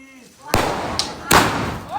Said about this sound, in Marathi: कालचे फटाके जेवढे राहिलेले ना, पाऊस पडत होता, ते आम्ही सर्व आज फोडायला घेतलेले